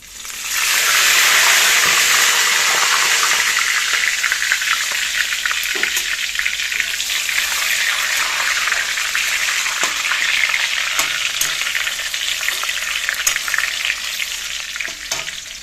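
Bay leaf, cumin, dried chili and whole garam masala spices frying in hot oil, a loud, continuous close sizzle with small pops and crackles throughout.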